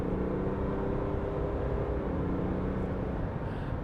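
A GMC Sierra 1500 AT4 pickup's engine hums in a steady low drone under a brief light pull, heard from inside the cab with no talk.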